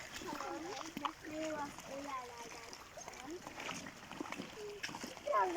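Children wading into a shallow country stream in winter, with repeated close splashes and water movement in rubber boots, while kids talk and call out over the flowing water throughout.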